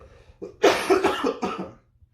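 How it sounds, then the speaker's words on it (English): A short fit of coughing, several harsh coughs in quick succession close to the microphone. "I'm just coughing away today."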